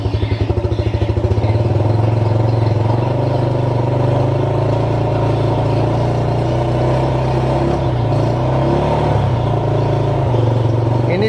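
Engine with a weak fuel pump revved by the throttle, a loud continuous drone with a rough, pulsing start that settles into a steady hum, rising slightly then sagging as it struggles to climb.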